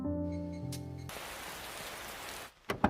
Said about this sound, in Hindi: ओहो, अचानक से ये बारिश शुरू हो गई।